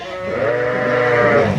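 A keeper lamb being raised on a sheep farm gives one long, loud, wavering bleat close by, with no talk over it.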